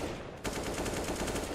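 Rapid automatic gunfire from Counter-Strike on the Inferno map during a professional match, fired through walls: a dense, steady burst of shots that starts suddenly and keeps going, with a dull, roomy ambience before it.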